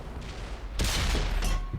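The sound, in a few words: tank gun firing a shot in a tank video game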